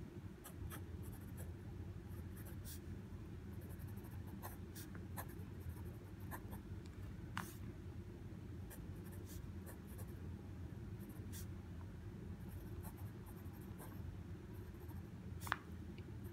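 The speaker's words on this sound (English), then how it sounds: "so I'm gonna write something here." Pilot Kakuno fountain pen nib scratching across paper in short, irregular strokes, a soft close-up writing sound over a steady low room hum.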